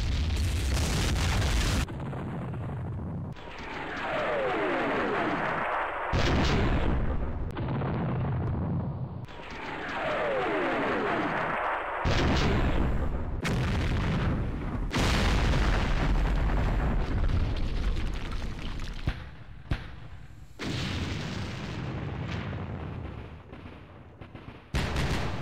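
Artillery barrage in a Vietnam War strategy game, heavy booms and explosions in repeated waves with crackling gunfire between them, loud and sustained with short quiet breaks.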